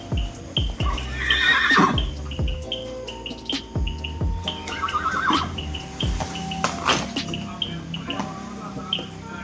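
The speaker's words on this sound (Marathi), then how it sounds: "आता फक्त घोड्यांचा आवाज ऐकायचा" Horses at feeding time give loud repeated neighs and whinnies close by, with chirping birds in the background and occasional clip-clop of hooves.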